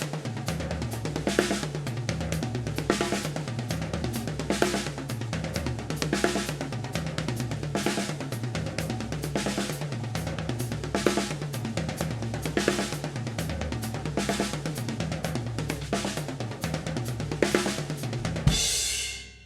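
Drum kit exercise in continuous 16th notes moving across snare drum, two toms and floor tom, dense, even strokes played loud and close for nearly twenty seconds before stopping abruptly.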